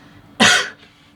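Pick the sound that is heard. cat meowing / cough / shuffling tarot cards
cough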